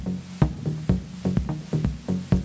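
Algorithmic techno groove in a 7-against-8 polyrhythm, where a thumping bass drum hits at a steady pulse while a throbbing tonal pattern wraps around it, moderately loud and repetitive.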